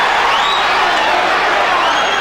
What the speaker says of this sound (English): Round 3, and this crowd is revved up.